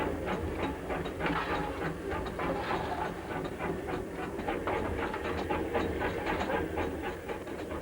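A coal-fired steam locomotive at full gear chugging steadily, with rhythmic puffs and clanking over a constant rumbling roar, close by.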